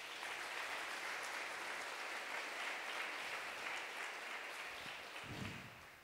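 Church congregation applauding in praise, a continuous wash of many hands clapping at steady level, thinning slightly near the end as a low thump sounds.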